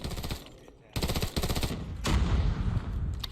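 An in-game gun fires short bursts in a video game shooter, two quick volleys of rapid shots separated by a brief gap, fairly loud over faint background game sound.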